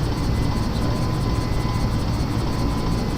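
A steady, loud, broadband engine roar of an airliner cruising in a flight simulator game, continuous and unchanging with no talk over it.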